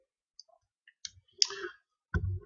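Mouse clicks on an upload button in a photo slideshow web app: a few sharp, isolated clicks separated by quiet gaps, close and crisp.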